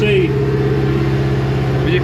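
A BMW M5 engine idling high under automatic load while warming toward 80 degrees, with a steady, loud, even drone and no sharp rev changes, heard close up.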